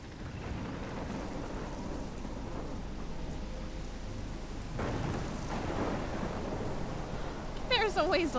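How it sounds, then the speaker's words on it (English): Heavy rain pours steadily in a stormy video game scene, with rumbles of thunder swelling midway and a sharp electronic effect near the end; the downpour stays loud and continuous throughout. "Man, this storm is loud."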